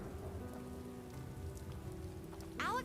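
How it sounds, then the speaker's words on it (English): Rain from the animated series RWBY falls steadily as a soft, constant patter, with a brief rising tonal sweep near the end. "Now it's raining on just us."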